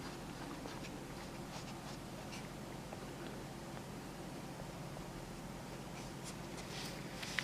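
Fingertips and a fingernail brush old paper label residue off a vinyl record, a steady soft scratchy rubbing that continues evenly throughout, close up and quiet with no pauses.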